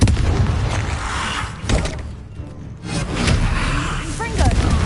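An Incendio fire spell is cast in Hogwarts Legacy on PS5, a loud booming burst with crackling flare that swells, dips briefly and surges again amid combat noise.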